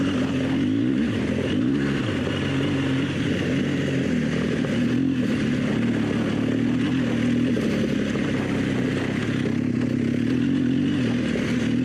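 Motorcycle on Michelin Anakee tires cruising steadily in second gear on dirt, rear sliding through corners; a continuous close engine drone with brief revs as power is applied, mixed with tire and wind noise.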